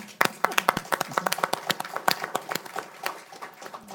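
Sparse clapping from an audience at a discussion event on US, China and Russia relations, a thin scatter of hand claps in quick irregular bursts, close and moderately loud, fading toward the end.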